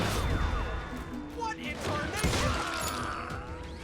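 Gunfire in the Xbox 360 game Call of Juarez: Gunslinger, a flurry of sharp shots and impacts mixed with game effects, heard under ongoing talk.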